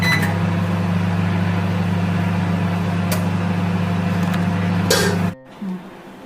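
A microwave oven running while baking a marble cake: a steady close electrical hum that stops abruptly near the end, followed by a faint click.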